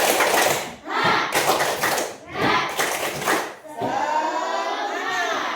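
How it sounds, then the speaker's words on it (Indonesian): Children in an Indonesian classroom clap a rhythmic spirit clap in several loud bursts, pausing between rounds, with kids' voices and chatter mixed in and a clear voice speaking near the end. "coba 1, 2, 3 tepuk semangat."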